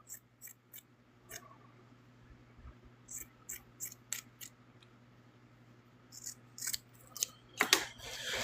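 Scissors snip sewn plush pieces loose after machine sewing, with a series of sharp, close, crisp clicks in irregular clusters against a quiet background hum.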